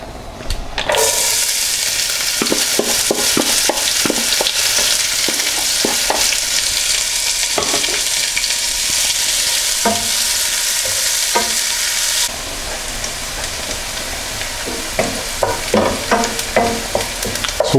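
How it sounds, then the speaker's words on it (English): Onions sweat in a hot pan with a dense, continuous sizzle, while a spoon scrapes and stirs in irregular strokes, close and loud throughout. "The next thing we need to do is to sweat the onions off."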